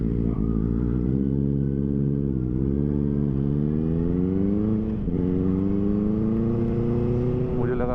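A Benelli 600i motorcycle rides from Mumbai toward Malshej Ghat, its engine droning steadily up close with rising and falling revs as it shifts through gears, over constant wind rush.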